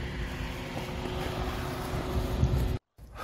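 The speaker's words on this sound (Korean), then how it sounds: "바람 좋다. 깔끔하게 죽인다. 깔끔하게 붑니다." Steady wind at a paragliding launch site, roaring and buffeting as a loud broadband rush close to the microphone, with a brief dropout near the end.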